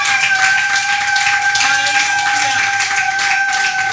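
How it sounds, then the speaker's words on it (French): A church congregation claps and acclaims during a worship service. Dense, continuous clapping and cheering voices run over sustained musical tones at close, loud level. "Est-ce qu'on peut acclamer pour nos bien-aimés qui sont en ligne?"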